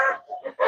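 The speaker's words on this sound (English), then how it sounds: "The two roosters are talking to, whoa!" A rooster on a Texas ranch gives a short burst of harsh, nasal clucking calls, close and fairly loud, in three quick phrases with brief gaps.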